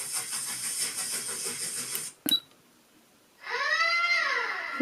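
A steam train sound effect played back from a DY-SV5W sound board: steady hissing steam chuffs, a brief clank and pause, then a loud whistle-like tone swelling in, heard alone.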